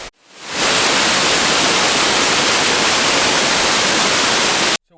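River water rushing at Dunn's Falls in Mississippi, a loud, dense roar of flowing water that fades in quickly, holds steady for several seconds, then cuts off abruptly, with no voices.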